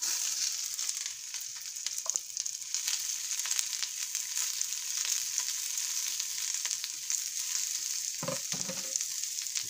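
Onions sautéing in a pan, a loud continuous hissing sizzle that stays steady throughout, with a brief clatter of stirring near the end.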